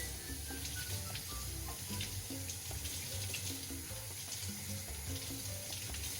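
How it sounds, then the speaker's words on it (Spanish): Tap water running steadily into a kitchen sink while parsley and coriander are rinsed under it, a quiet continuous splash without pause. "Y aquí lavo el perejil y el culantro para echarle."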